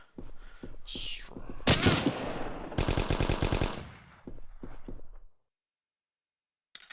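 Automatic weapons fire in the tactical shooter Hidden & Dangerous Deluxe, with short rapid bursts and single shots of game gunfire, loud and close, then a quiet pause before a final brief sound.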